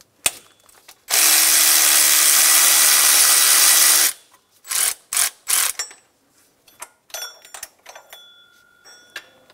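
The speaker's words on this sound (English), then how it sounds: "Using a 14 millimeter, remove the one nut and two bolts on the power steering pump" Rapid ratchet clicking from a 14 mm ratchet on the power steering pump nut and bolts of a 2000-2006 Toyota Tundra 4.7L V8, first one long steady three-second run, then several short bursts and lighter clicks, close and loud.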